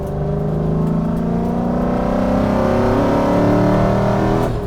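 A drift truck revs hard for a burnout on wet pavement, its engine note climbing steadily and loud up close, with no talk over it.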